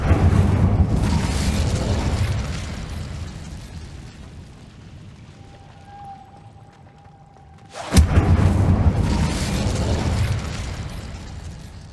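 Incendio fire spell cast in the Hogwarts Legacy video game, a sudden loud whooshing burst partway through that swells into a sustained roaring rush, preceded by a quieter rumbling ambience.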